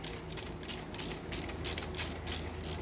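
A ratchet tightens bolts on a fitness hybrid bike during reassembly, giving a steady series of quick, close metallic clicks in rhythmic bursts, with no talking.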